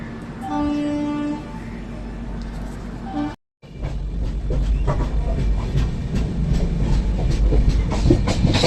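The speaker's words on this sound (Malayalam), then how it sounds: "ട്രെയിൻ ഓടി തുടങ്ങി" A train horn blares briefly, then after a short break a loud, steady rumble and clatter of rolling wagons builds as the train pulls out of a railway station.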